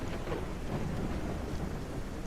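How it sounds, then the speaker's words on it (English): Heavy rain with a low thunder rumble in the mouse city-building game Whiskerwood, a dense, steady roar of downpour throughout with no voices. "heavy rain."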